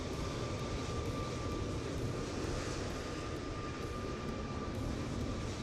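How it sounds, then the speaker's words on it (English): An airplane taking off in a flight simulator game, heard as a steady, broad engine roar held at an even level throughout, with no talk. "That was another airplane taking off."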